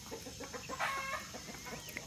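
Several chickens cluck softly and irregularly nearby, with one brief louder squawk in the middle, over quiet outdoor background.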